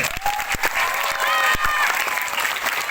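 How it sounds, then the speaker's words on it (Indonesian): Applause from a crowd at an Isra Miraj school gathering at an Indonesian elementary school, steady clapping with a few sharp individual claps, while voices and a faint tonal sound carry underneath. "Tepuk tangan untuk Sindang kali."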